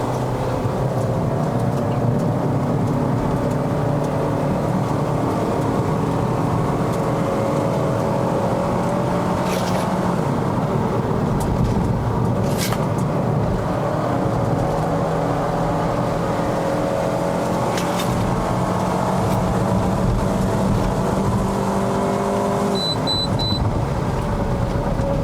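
A 2011 Honda Civic FD 2.0S driving up a Malaysian mountain road, its engine note droning steadily and rising and falling through the corners, with road and wind noise filling the cabin throughout.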